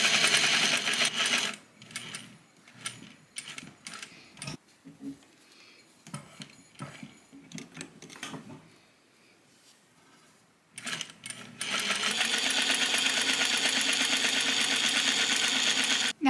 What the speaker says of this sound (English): Now I'm going to be sewing with the color thread off my coat itself, 3/8 inch, all the way around each layer.